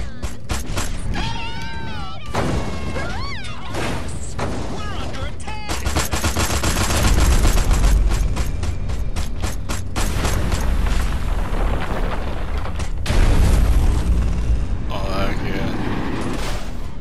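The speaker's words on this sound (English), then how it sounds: "The Quantum Deconstructor. It has a blast wave that destroys everything." Destroy All Humans: the Quantum Deconstructor's blast wave tears into the commercial buildings of Santa Modesta, with loud booms, mechanical whirs, creaks and crashing debris rolling on and on, and game voices chattering under it.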